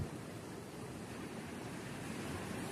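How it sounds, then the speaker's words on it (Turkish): Rough sea waves after rain wash in steadily beside a forest campsite, a continuous broad surf rush with wind, moderately loud and constant, with no voices. "yağmur sonrasında deniz dalgalandı."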